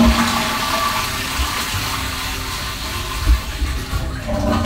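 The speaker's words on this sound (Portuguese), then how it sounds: "Chamar 3 vezes e dar descarga." A toilet flushing in a home bathroom, a loud, close rush of swirling water that carries on for several seconds and then settles into refilling, with no voices.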